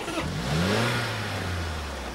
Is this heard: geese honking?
no